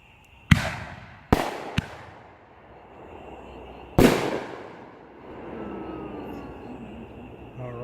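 A Shogun Fixin To Fire firework cake going off outdoors: four sharp, loud bangs, two close together, then a lone burst, each followed by crackling and rumbling that fades away.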